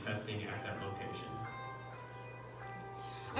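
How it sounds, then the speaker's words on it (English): A bell rings to close a meeting on reopening recreation services, with sustained ringing tones fading out over a few seconds at a modest level, and talk faintly underneath. "that is totally our closing bell."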